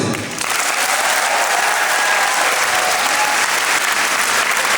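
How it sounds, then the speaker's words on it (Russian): Sustained applause from a concert audience at a Lezgin festive concert, a dense, even wash of clapping that stays loud and steady for the whole stretch without speech. "Для начала я хотел бы услышать шум оваций."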